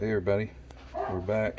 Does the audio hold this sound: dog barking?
yes